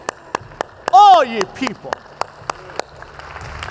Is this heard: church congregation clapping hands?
yes